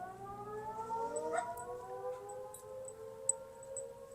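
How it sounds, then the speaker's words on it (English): A civil defense warning siren wails in the distance, its rising and falling tone drifting faintly over an outdoor garden backdrop with a brief click near the end. "Because those are our warning sirens."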